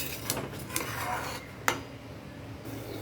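Fried catla fish pieces stirred in a pan for a Bengali doi katla curry, with a few light clinks and scrapes of a utensil against the metal over a low kitchen background.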